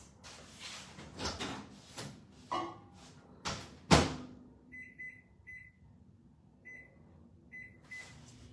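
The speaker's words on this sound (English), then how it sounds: "It hasn't quite defrosted, so I might just pop it in for 30 seconds." Kitchen microwave oven warming frozen pizza sauce: a loud door slam and clatter, then the steady beeping of the panel in short repeated groups, mostly alone with faint background noise.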